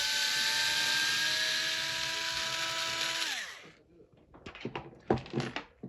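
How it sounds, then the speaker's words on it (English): A power driver whines steadily at high pitch while removing an axle screw on a Traxxas T-Maxx 3.3 RC truck, then spins down and stops, followed by small metallic clicks and handling noises up close. "So now we're just going to unscrew it."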